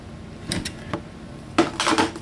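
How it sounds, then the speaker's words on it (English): A wrench tightening the jam nut on a Kel-Tec SUB-2000 muzzle brake, giving a few sharp metallic clicks and scrapes, close and distinct, with a louder grinding clank near the end. "I'm actually turning the jam nut to the right as I'm providing some counter force"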